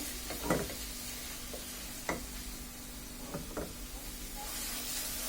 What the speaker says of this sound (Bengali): এখন এটাকে ভালোভাবে মিশিয়ে দিচ্ছি